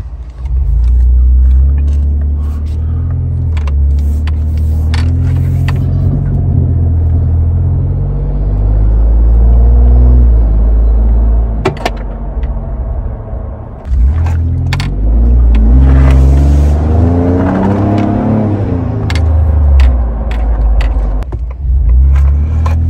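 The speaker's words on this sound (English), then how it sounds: "here's a little sound clip from inside the truck. We're going to start it up first." From inside a truck, an engine cranks and starts, then idles with a low rumble before revving and pulling away, with occasional clicks and rattles nearby.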